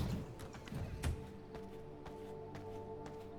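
Faint, evenly spaced horse hoof clip-clops in the video game V Rising tap along at a walking pace over a low background hum.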